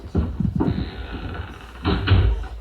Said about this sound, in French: Dieu lui-même ferma la porte.